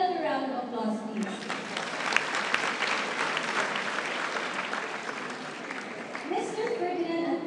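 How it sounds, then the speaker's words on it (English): An audience at an investment seminar gives a round of applause, with steady clapping that builds quickly and fades after several seconds, with a speaker's voice at the start and end. "Another round of applause, please."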